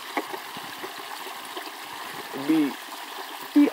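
A gentle snowmelt stream trickles and burbles quietly and steadily, with a couple of brief voice sounds near the end.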